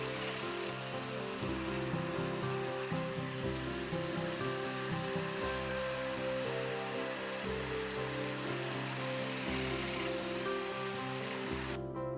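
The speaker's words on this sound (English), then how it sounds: "With the location of the dominoes marked, I can now cut out the mortises." A domino joiner cuts mortises into a wooden bed frame, giving a continuous close motor whine with repeated low plunging thumps as each cut is made, with no talk.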